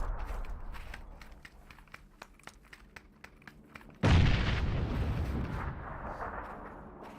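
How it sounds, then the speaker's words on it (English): Gunfire in a battle royale video game: a run of sharp, evenly spaced shots crackles through the first four seconds, then a heavy blast hits and rumbles on loudly until the end. "More and more shots come out from Juice towards the boys in New Genesis"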